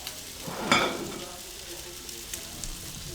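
Frikadellen meat patties sizzle in a frying pan, with a louder hiss as one is pressed down, then a softer steady fry.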